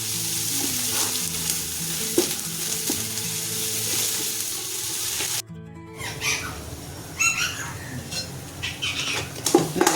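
Tomatoes sauté with salt in a pot for beef stew, giving a steady loud sizzle with stirring scrapes and clinks; after a brief gap near the middle the frying returns more broken and crackly.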